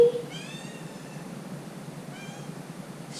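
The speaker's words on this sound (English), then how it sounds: "She's so meowy." A pet cat meows twice, a drawn-out mew followed a couple of seconds later by a shorter one, close and fairly quiet over soft room noise.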